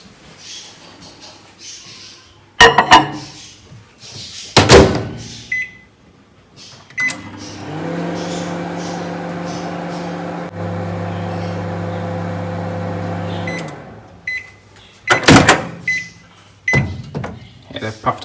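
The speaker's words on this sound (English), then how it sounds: "I'll probably just go and put that into the microwave for about a minute" A microwave oven hums steadily for several seconds, bracketed by clunks of its door and beeps, with someone talking before and after.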